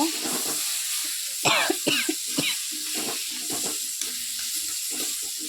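Fried potatoes and soybean chunks go into a sizzling spice paste in a Bengali home kitchen, a burst of clattering and spattering followed by continuous close frying and stirring, with no voices.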